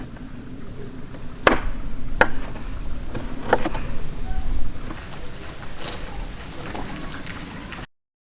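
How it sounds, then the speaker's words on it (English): A knife roughly chops leftover pie on a board for granola bars, giving several sharp, separate knocks at an uneven pace over a soft background hiss. "I'm just going to roughly chop this and then get it in the pan"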